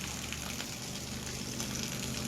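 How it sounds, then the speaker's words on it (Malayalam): Spring water gushes out continuously, a steady, even rushing hiss that holds at a moderate level throughout without pause. "ഈ വെള്ളം ഇങ്ങനെ ചാടിക്കൊണ്ടേ നിൽക്കണല്ലോ"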